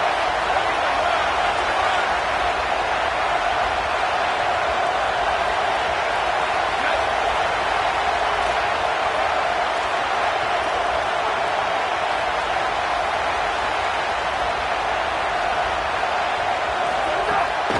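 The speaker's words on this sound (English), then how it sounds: "how nice is it to have the home crowd going absolutely bananas" A home football crowd in an NCAA college football video game, Auburn versus Kentucky, roars as a dense, steady wall of loud cheering and noise that holds evenly throughout with no breaks.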